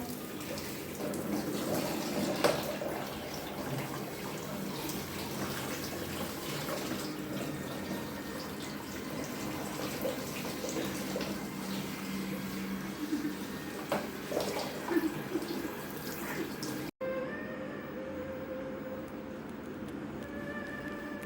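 Steady running water from a tap or hose pours during a dog's bath with shampoo, continuous and fairly close with small splashes, broken by a brief cut near the end.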